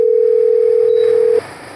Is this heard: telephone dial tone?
yes